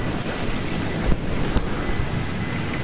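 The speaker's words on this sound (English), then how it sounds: "Oh, I can hear the waves in my ear" Ocean waves roll in Fortnite, a steady broad wash of surf and wind noise without a break.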